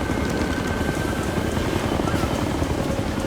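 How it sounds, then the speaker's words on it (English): Helicopter in the video game Ghost Recon: Future Soldier, a steady low rotor drone and rumble that holds at a constant moderate level throughout, with no voices over it. "If that chopper spots us, it'll get messy real fast."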